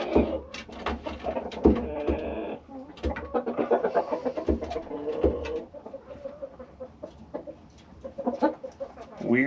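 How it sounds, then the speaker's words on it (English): Repeated hard thumps of a rooster stomping its feet on a wooden 2x4 board, irregular and close, with chickens clucking and squawking throughout. "He's just like hitting the wood, the 2x4, with his feet real hard."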